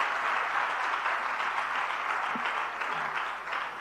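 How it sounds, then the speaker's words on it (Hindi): Soft, continuous applause from a gathering at a Jain monk's religious discourse, a dense wash of many hands clapping at a fairly low level without pauses, with no talking over it. "तालियां बहुत हल्के से बजी हैं, जरा जोरदारी से बजनी चाहिए सब तरफ"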